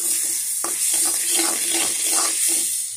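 Meat and potatoes fry in a pan for a noodle dish, a moderate hiss and sizzle with soft stirring knocks and scrapes at an uneven rhythm, close by and with no voices.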